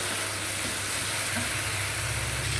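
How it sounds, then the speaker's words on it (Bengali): Spice paste and potatoes frying for a fish curry in a home kitchen, giving a steady, close sizzle with a constant hiss throughout and no talking. "মশলাটা কষিয়ে নিলাম নিয়ে আলু দিয়ে আবারও একটু কষিয়ে নিচ্ছি"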